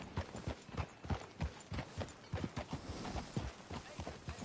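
Horse hooves clip-clopping at a steady walking rhythm in the video game Red Dead Redemption, moderately close and fairly quiet, continuous across the whole stretch.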